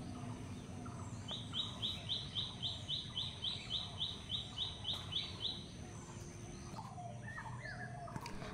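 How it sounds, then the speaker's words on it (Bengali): A single bird repeats a bright, rhythmic call about a dozen times in a row, fairly close, then softer chirps follow against a quiet outdoor background. "সকালের এই পাখির ডাকটা বেশ ভালো লাগে"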